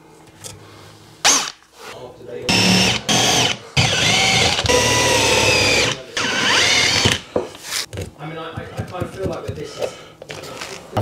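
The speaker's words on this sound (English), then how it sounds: "Suppose I'm going to have to drill through it." A power drill boring through wood in a new-build house, in loud sustained bursts of whirring separated by short pauses, with the motor pitch shifting as it bites.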